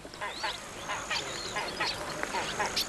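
Ruddy shelduck calling, a series of nasal honking calls repeating roughly every half second, fairly near and clear over light background noise.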